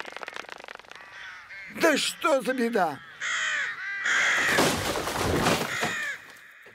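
Crows caw several times in a quick, loud series near the middle, set between stretches of speech and other sounds, and a person talks briefly as well.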